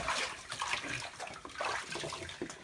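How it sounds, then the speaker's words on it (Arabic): Water pours from a rocky spring source at a farm, a continuous splashing gurgle with bright bubbling and trickling, fairly faint and steady, without any talk. "وهذا المصدر الثاني اللي جاي منها الماء"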